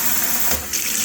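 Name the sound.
new kitchen sink faucet running water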